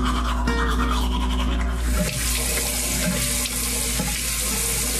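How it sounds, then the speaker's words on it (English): Teeth being brushed with a toothbrush during a morning routine, a steady close scrubbing hiss with running tap water mixed in throughout. "I brushing my teeth for a second time this morning"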